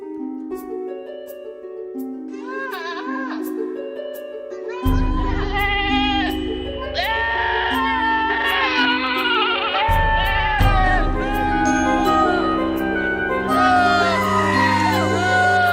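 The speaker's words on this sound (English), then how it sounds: "I will just play you the GOAT horror soundtrack in the background" Goat bleats mixed into a horror-style music soundtrack: wavering bleating cries recur over sustained low tones and layered musical chords that grow louder and denser partway through, with no one speaking.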